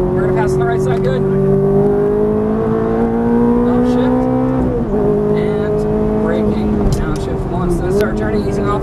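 Ferrari F430 engine revving and accelerating under throttle on a race track, a steady loud engine tone rising in pitch with brief dips, heard up close throughout with talk over it.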